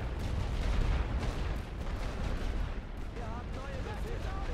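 Continuous battlefield din of artillery and rifle fire from a WW1 trench strategy game, a dense, loud rumble of booms and crackling shots running throughout with no pauses.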